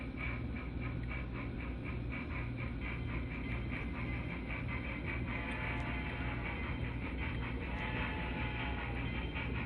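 A DCC sound decoder in an HOn3 brass K-36 locomotive plays steady rolling train and rail sounds through a one-inch round speaker mounted in the tender, a continuous, fairly quiet rumble with rhythmic clicking and no talking.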